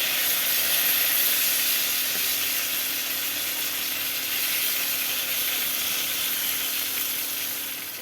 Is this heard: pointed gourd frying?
yes